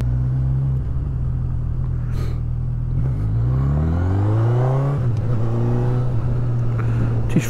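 Honda CB1000R Black Edition motorcycle engine held in first gear, revving loudly and close: a steady idle rumble, then a rising rev around the middle that drops back, followed by another climb, with no talking.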